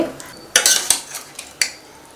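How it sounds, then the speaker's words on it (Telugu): Chopped ridge gourd pieces drop into a pan in a few quick bursts, clattering and scraping against the metal, with a faint sizzle underneath. "నేతి బీరకాయ ముక్కల్ని వేసేసుకోండి"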